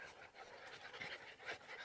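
Young puppies pant close by in quick, breathy bursts, soft and continuous with no other voices.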